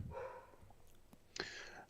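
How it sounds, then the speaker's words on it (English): Dogs barking in the background of a live stream, a few faint, distant barks and yips heard alone. "There's my dogs barking and stuff."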